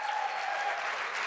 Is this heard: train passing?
no